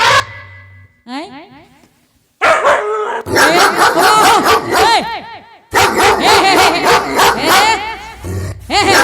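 A dog barks in rapid, loud bursts mixed with yips and whines, close up, during a lively folk dance-drama performance, with voices and stage noise around it.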